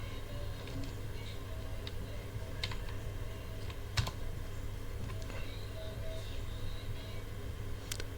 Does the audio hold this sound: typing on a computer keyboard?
yes